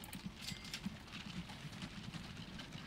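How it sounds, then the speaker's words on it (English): Horse-drawn wagons in the video game Transport Fever give a faint, steady clip-clop of hooves, repeating evenly under a soft background wash with no talking. "I hate adding so many horse wagons, but it might be necessary."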